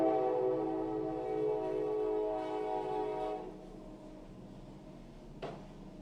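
Train horn blaring a sustained harmonic chord nearby for several seconds, then fading while a low rumble of the passing train continues, ending with a brief clunk.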